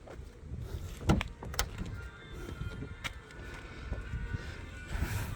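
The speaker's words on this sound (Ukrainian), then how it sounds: "Присутні електропідйомники, передні та задні." The electric power windows of a 2009 Volkswagen Passat B6 run with a faint motor whir inside the car, joined by a couple of clunks and knocks.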